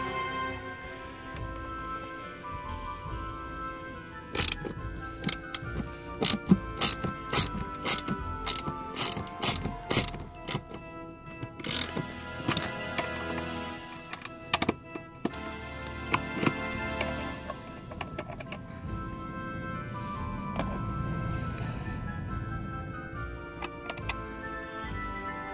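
Ratchet wrench clicking as seat bolts are loosened and unscrewed inside a 2007 Nissan Pathfinder, close rapid ratcheting bursts in irregular runs over mechanical rattles and handling noise.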